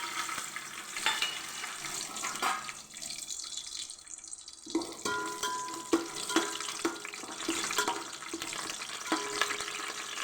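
Steady sizzling of tomato and onion frying for chicken biryani, with clattering stirring and scraping in a pan, plus a brief quieter pause in the middle.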